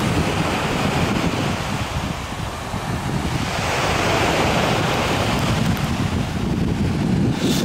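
Sea waves rolling onto an empty beach in Alanya, Turkey, with strong wind buffeting the microphone; a loud, continuous rushing surf with no voices.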